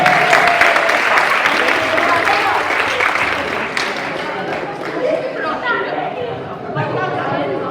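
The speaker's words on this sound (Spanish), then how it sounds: "pues fort aplaudiment a totes" Audience applause for the performers at a rhapsody recital, a dense wash of clapping that starts loud and gradually thins, with chatter and voices mixed in underneath.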